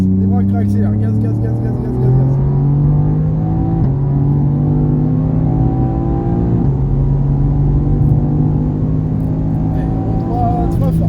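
A race car engine on a track near Mireval accelerates through the gears, with steady loud revving harmonics that rise, dip briefly at gear changes, and climb again, running continuously throughout.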